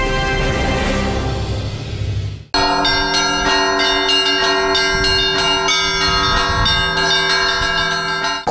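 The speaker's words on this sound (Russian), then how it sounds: "Курантный и пасхальный перезвон," Church bells peal loudly in a rich, layered Easter chime in Sarov, briefly dropping out then resuming, many overlapping tones sustained throughout.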